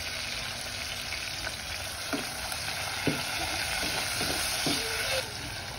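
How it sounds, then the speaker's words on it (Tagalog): Soy-sauce-marinated meat frying in hot oil, giving a loud, steady, close sizzle throughout with a few sharp pops and utensil clinks scattered across it. "Iprito na nako daan ang karne."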